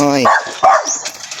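A farm dog named Meoy gives a short bark or yip at feeding time, close by, with a person talking around and over it.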